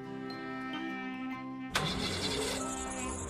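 A cartoon car engine turning over in a brief cranking hum, then catching with a sudden loud burst into a rough running rumble, alone and close.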